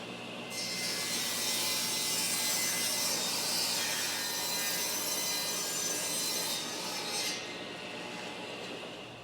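A table saw rips a strip of wood down to a one-by-one for a garden trellis, a loud, steady whine of blade through timber that holds for about seven seconds, then drops back to the motor idling alone.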